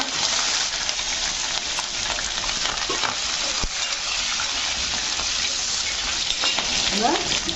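Curry leaves and three green chillies fry in a generous amount of hot oil, giving a dense, steady sizzle and crackle close by that continues throughout, with no talking.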